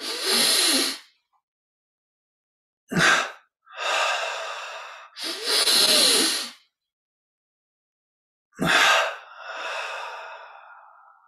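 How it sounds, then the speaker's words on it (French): Deep breathing during a guided yoga exercise: loud, close double inhalations and long audible exhalations, each breath clearly separated by silent pauses. "Double inspire, on contracte tout. Expire, on relâche."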